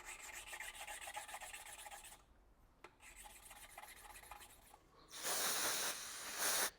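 Grinding compound rubs in a steady rasping hiss as a BMW engine valve is lapped against its seat, close and fairly quiet, breaking off briefly before a louder, harsher scrubbing stretch.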